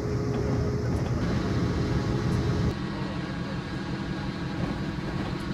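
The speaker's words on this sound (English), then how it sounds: "Hey, look, another train." A CSX train rolls past on the Northeast Corridor in Train Sim 2015, a continuous low rumble and hum that shifts and drops to a quieter steady drone halfway through.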